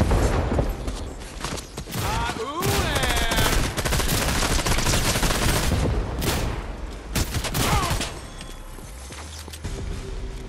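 Dense, loud bursts of gunfire and explosive blasts from remote explosives pound through a Fortnite match, nearly continuous for most of the stretch before easing off near the end.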